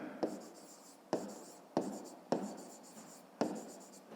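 Handwriting during a fifth-grade math lesson, heard as a series of close, sharp strokes and taps that repeat at irregular intervals, quiet, with faint speech underneath.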